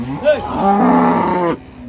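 A Friesian cow gives one long, loud moo up close at a busy cattle market in Ambari, Dinajpur, rising then holding steady before cutting off, with faint background noise.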